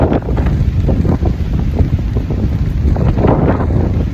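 Strong wind on a lake in Algonquin Park, a loud, constant buffeting roar across the microphone with gusty surges and lapping water underneath, no voices.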